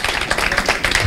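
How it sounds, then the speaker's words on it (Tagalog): A church congregation at morning prayer claps their hands together in praise, a brief burst of dense, steady applause from many people in a hall. "Palakpakan natin ang Panginoon."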